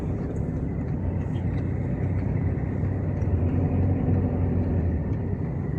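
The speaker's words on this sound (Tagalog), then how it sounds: "Traffic guys. Traffic." Heard from inside a car in slow city traffic, a steady low rumble of engines and road noise carries on without a break, with no talk.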